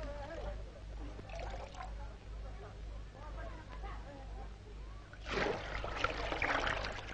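Water gushes from a large leather bag into a stone channel feeding a town, a sudden loud burst of pouring and splashing arriving late over steady background rumble and someone talking throughout.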